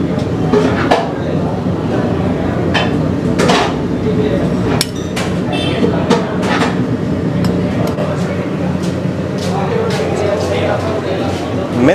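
A spoon clinks and scrapes against a pot while serving methi (fenugreek leaf) pulao, making repeated sharp metallic knocks and clatters under a person talking.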